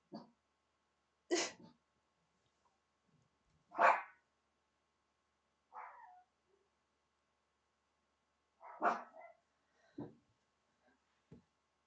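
A dog gives a handful of short, separate barks or huffs with long quiet gaps between them, moderately near and fairly soft.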